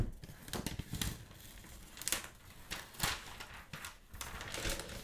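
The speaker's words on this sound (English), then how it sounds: "let's go ahead and unwrap it like this" A new 15-inch 2023 MacBook Air M2 being unwrapped from its protective wrap, with crinkling and tearing plastic in several sharp bursts, close and fairly quiet.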